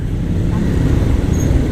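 Congested Pasig street traffic, a loud, steady rumble of cars and motorcycles idling and creeping nearby, heard alone.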